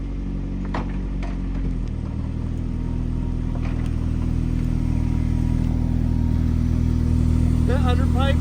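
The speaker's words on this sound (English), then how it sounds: "The pipe back here is still rattling like a motherfucker" A turbocharged Mazda Miata engine with a rattling exhaust pipe holds a steady, buzzy idle that rises slightly after about two seconds, while people talk over it near the end.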